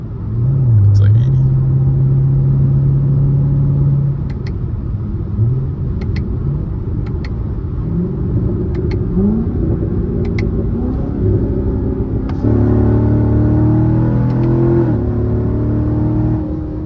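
A loud C7 Corvette accelerates on a late-night road drive, its deep engine rumble climbing through gears and then blipping on downshifts, with a few short pops and someone talking over it.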